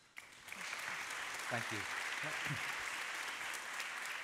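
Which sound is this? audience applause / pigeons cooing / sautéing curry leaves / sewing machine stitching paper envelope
audience applause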